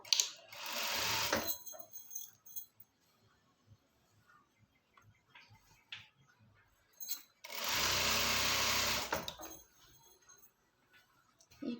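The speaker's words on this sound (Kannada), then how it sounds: "ಇನ್ನೊಂದು ಫೋಲ್ಡಿಂಗ್ಗೆ ಇನ್ನೊಂದು ಸ್ಟಿಚ್ ಹಾಕೋಣ" A sewing machine stitches a folded pant cloth hem in two loud bursts, each about a second or two long, with quiet handling clicks between them.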